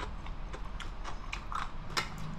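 Someone eats freshly seasoned Korean raw cucumber salad up close, and each bite gives sharp, crisp crunches that come irregularly over soft chewing.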